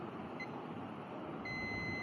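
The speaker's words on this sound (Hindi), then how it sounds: "बीप आप सुन सकते हैं, यहाँ बीप आ रही है।" Continuity beep from a multimeter probing a laptop circuit board, a steady high electronic tone sounding alone and faintly, then swelling louder and clearer partway through.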